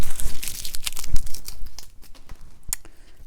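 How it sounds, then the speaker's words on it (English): Washi tape peeled up from dry watercolor paper after painting fall leaves, giving close, loud crackling tears in quick bursts that ease into quieter crinkles, with no talking. "you pull up the washi tape"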